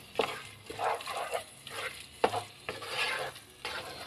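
Onions for a chicken curry are stirred in a hot pan, a close, rhythmic scraping of the spoon every half second or so over a soft, steady sizzle.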